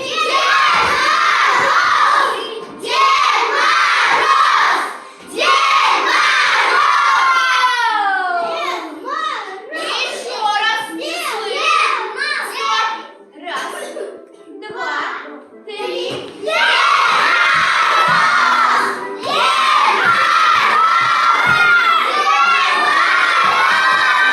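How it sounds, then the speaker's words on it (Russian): A group of first-grade schoolchildren loudly shout Ded Moroz together at a school New Year celebration, several rising chants of excited young voices in unison with crowd cheering and squeals between calls. "Тогда на раз, два, три громко крикнем Дед Мороз."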